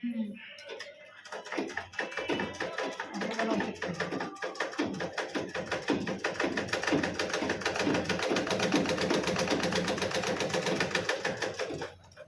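Sewing machine stitching the edges of a kumkum-pattern blouse, running in a fast, steady mechanical clatter for most of the stretch and stopping near the end, close and clear, with someone talking over it.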